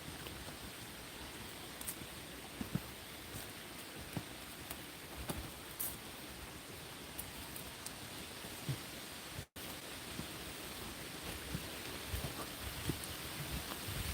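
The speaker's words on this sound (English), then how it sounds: "maybe the rain's starting to come down a little bit." Rain beginning to fall outdoors, a steady, even hiss of drops on surfaces with scattered faint ticks, continuous and fairly loud throughout.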